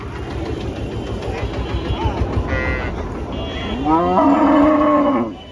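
A cow at a cattle market lets out a long, loud moo toward the end over a rumbling engine and murmuring crowd noise.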